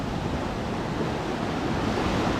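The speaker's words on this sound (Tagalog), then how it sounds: "Malakas pa tayong alon mga kabossing." Strong ocean waves at sea, a dense, loud, continuous roar of surf and wind with no break, heard alone.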